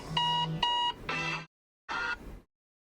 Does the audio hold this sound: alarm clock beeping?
yes